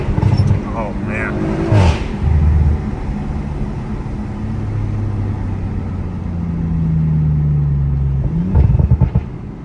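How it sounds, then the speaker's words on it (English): A 500+ HP Audi RS5 driving through a forest accelerates with a steady engine drone that rises and swells, partly under someone talking in the car. "I'm on the throttle for 2 seconds and it's 100."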